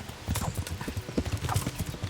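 Horse hooves clip-clopping in a quick, steady gallop rhythm, close and loud, in the medieval video game Kingdom Come: Deliverance.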